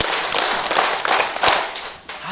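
A church congregation claps in unison during a Sunday worship service, a loud, dense burst of hand claps filling the room, with a few sharp strikes standing out before it tapers off.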